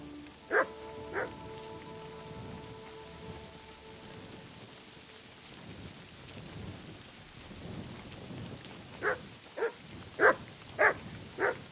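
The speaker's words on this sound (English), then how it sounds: "Good dog, Mutz." Mutz, a dog in Kingdom Come: Deliverance 2, barks in sharp bursts: two near the start, then four in quick succession toward the end, over a steady rain-like hiss.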